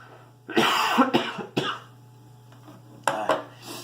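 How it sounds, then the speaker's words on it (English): Several harsh, close coughs from a person with a cold, in two bursts separated by a pause, over a low steady hum. "I have a cold right now, so I'm going to be coughing."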